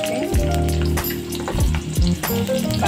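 Onion dropped into hot oil in a wok for a cauliflower beans masala, giving a close, loud crackling sizzle throughout with a few clattering bumps and tonal metallic rings, no talking.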